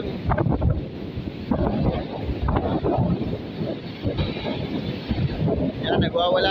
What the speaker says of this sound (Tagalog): Maulan, kaya malakas ang alon.